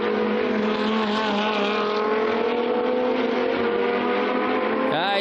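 GT2 race cars scream past at high revs on the Dijon circuit, a loud, sustained engine wail with shifting pitch and a sharp gear change near the end.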